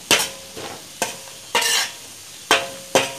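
Chili powder being stirred in hot oil for a Kerala-style mango pickle, with repeated spoon scrapes and short bursts of sizzling at an uneven rhythm, close and fairly soft.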